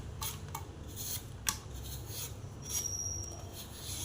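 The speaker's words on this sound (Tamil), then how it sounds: "தோலை கரெக்டாக எடுத்துடலாங்க" Raw mango skin is peeled off in short rasping scrapes, close and quiet, a few strokes with small gaps between them and one sharper tick. No one speaks.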